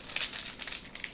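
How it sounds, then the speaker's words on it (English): Crinkling plastic wrapper being torn open on a 2015 Chrome Perspectives trading card pack, a short burst of bright, close rustles and crackles lasting about a second. "let us open some cards"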